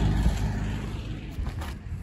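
A car comes up from behind on a hilly road, a low steady engine and tire rumble that is loudest at the start and settles into a softer hum.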